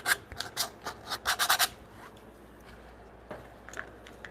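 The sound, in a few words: sanding the corners of a timber frame brace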